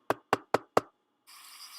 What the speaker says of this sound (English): Toad knocked at the front door.